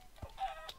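Chicken clucking in Minecraft, a couple of brief, quiet clucks in under a second, soft and close with nothing else around.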